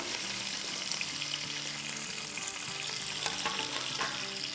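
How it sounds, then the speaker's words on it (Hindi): Sliced onion, green bell pepper and slit green chillies frying in a pot for pulao give a continuous moderate sizzle with stirring clatter, spoon scrapes and occasional utensil taps, no talk. "3 हरी मिर्चें थी जिसको मैंने लंबाई में स्लिट कर दिया है। इसको सिर्फ हम 1 मिनट के लिए फ्राई करेंगे।"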